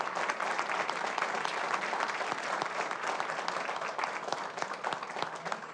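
Steady, dense applause from an audience at a school district governing board meeting, sustained and evenly loud throughout with no break, fairly distant and roomy, with no talk over it.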